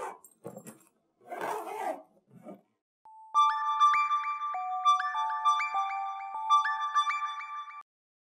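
An unanswered phone ringtone plays a bright repeating electronic melody for about five seconds after a short stretch of dialogue.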